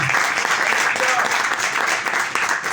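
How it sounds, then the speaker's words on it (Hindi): A church congregation claps loudly and steadily throughout a pastor's sermon, a dense wash of clapping with no break and faint crowd noise underneath. "यीशु के लहू के लिए जोरदार तालियां"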